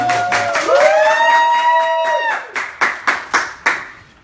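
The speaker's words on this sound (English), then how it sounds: "Since I don't get applause in the room, I'll give myself" A lone presenter claps his own hands at a drone unboxing, a few slow, spaced claps closing out a stretch of broad, dense noise.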